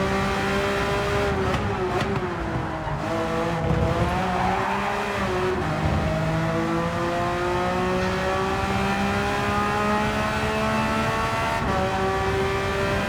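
A Porsche race car in Gran Turismo 7 drives on track, its engine droning loudly with rising and falling pitch through gear shifts, plus brief tyre squeal, close and continuous.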